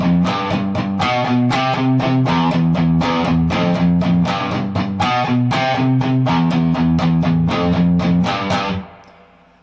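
A distorted electric guitar plays the chorus of a song, loud and driving with rhythmic chord stabs throughout, then cuts off and rings out at the end.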